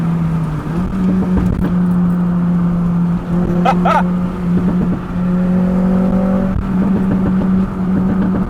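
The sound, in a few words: Honda Civic Type R FN2 engine revving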